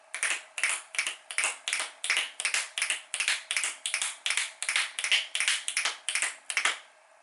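Finger snaps imitate a galloping horse: a steady run of crisp, close, evenly spaced snaps in quick repeating groups, loud and alone with no talk.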